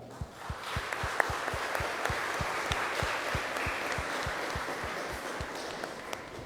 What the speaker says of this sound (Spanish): Ahí le felicitamos con un fuerte aplauso.